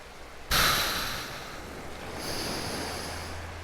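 A deep breath during an intermediate yoga class, a sudden loud rushing inhale or exhale up close followed by a softer, sustained airy breath that fades, with no talking.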